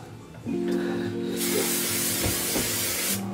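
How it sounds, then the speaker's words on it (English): Hair spray hisses from an aerosol can onto curls in long, loud, close bursts, with a steady hum running underneath. "I'm just going to kind of spray it in place"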